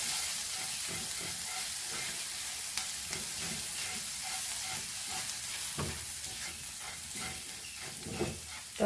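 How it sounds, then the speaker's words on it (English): Prawns in masala frying in oil over a low flame: a steady, close sizzle with occasional stirring scrapes and clinks throughout, and no talking. "Fry this on low flame."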